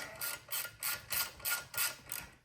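Rapid clicking of a ratchet wrench loosening exhaust bolts on a Honda Grom motorcycle, seven even bursts of ratcheting at a steady rhythm, close and clear with no talk.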